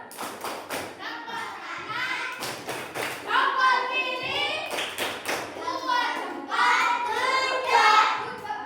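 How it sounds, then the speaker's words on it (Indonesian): A primary school class of fifth graders claps together in a short burst of applause, mixed with children's voices and chatter, loud and close. "Kasih tepuk good job, tepuk good job."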